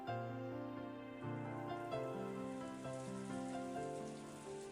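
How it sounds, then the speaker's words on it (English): Steady soft rain from the Umineko visual novel game pours continuously, blended with sustained, slowly shifting background music throughout. "As Angie slept, she was wrapped up in the soft sound of the rain."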